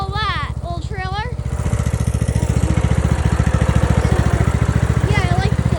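A small tractor engine idles steadily with a loud, close, regular low chugging throughout, while someone talks over it at the start and again near the end.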